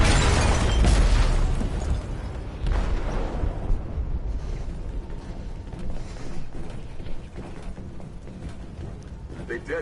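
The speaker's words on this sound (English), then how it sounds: "They detonated an explosive in the hold." An explosive detonates in a ship's hold in Detroit: Become Human, a heavy booming blast followed by a long rumbling, rattling tail of mechanical groans and debris that slowly fades.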